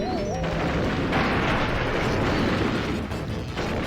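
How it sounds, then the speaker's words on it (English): Explosions and machine crushers in the Donkey Kong 64 Frantic Factory level, a dense, steady roar of booms and crashing noise that fills the whole stretch, with a brief tonal game chime near the start. "There's, explosions and crushers."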